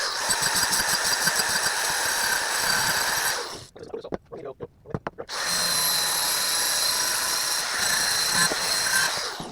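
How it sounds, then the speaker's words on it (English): A flap wheel on a power grinder grinds the edge of an exhaust pipe, a loud, close, high whine that drops out briefly midway into a few short bursts before running steadily again. "Okay, so let's get this stuff cleaned up. Flap wheel."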